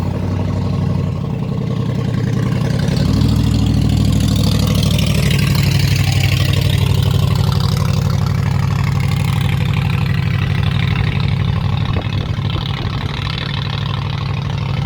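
A loud truck passes on a road near El Paso: a heavy, low engine rumble swells up close, holds strong through the middle, then eases off as it goes by, with no voices over it.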